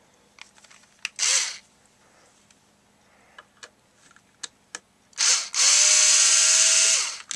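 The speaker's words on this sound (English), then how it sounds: "My trusty screwdriver out. Set it to reverse." A cordless electric screwdriver runs in reverse, backing screws out of the fan assembly inside a Sony XDR-S3HD radio. Close, loud whirring bursts: one short, then a longer pair near the end, with small clicks and handling taps between.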